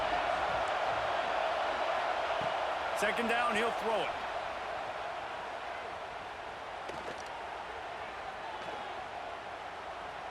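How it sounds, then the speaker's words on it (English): A home stadium crowd in EA Sports College Football 26 roars as a steady, distant wash of cheering under a play-by-play commentator's voice, a little louder at first and easing slightly later. "how nice is it to have the home crowd going absolutely bananas?"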